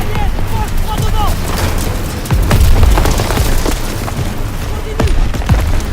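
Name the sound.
gunfire and explosions in Call of Duty WWII video game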